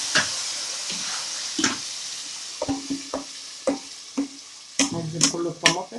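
Tomato juice poured over pasta frying in a pan, a steady sizzle underneath with a string of scraping stirs that grows busier and louder toward the end.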